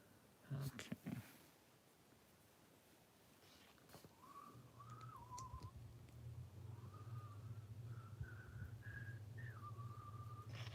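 Someone whistles the Falcon and Winter Soldier theme in clear, sustained notes over a steady low hum, after a few sharp knocks at the start.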